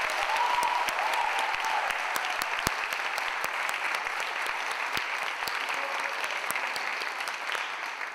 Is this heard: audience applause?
yes